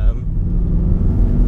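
A 2015 Ford Mustang GT Performance Pack drives a back road, its engine giving a deep, steady, close rumble that fills the low end without letup.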